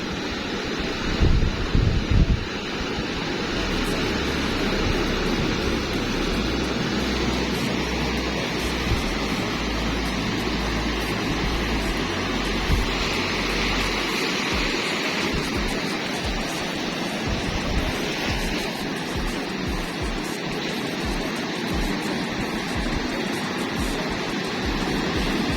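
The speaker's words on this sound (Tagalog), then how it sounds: "Yan, sunod-sunod na naman ang alon." Ocean surf breaks in a continuous heavy wash, waves rolling in one after another under steady wind noise, a dense roar with no clear gaps and no voices.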